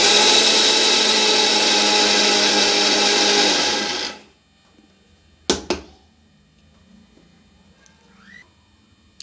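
An electric grinder grinds cumin to fine powder, whirring loudly and steadily for about four seconds, then stops; a couple of sharp knocks and faint rattles follow in near silence.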